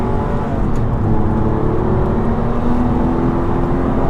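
A 996-generation Porsche 911 engine, loud and close, holds a steady rising rev with a dense mechanical growl and no voices over it.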